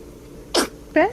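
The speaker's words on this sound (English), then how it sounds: "Bless you all the time. So many sneezes." A baby in a hospital NICU sneezes twice in close succession, a short burst followed by a higher, voiced little sneeze, close and clear over quiet room tone.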